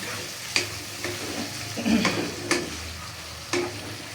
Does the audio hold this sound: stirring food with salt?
yes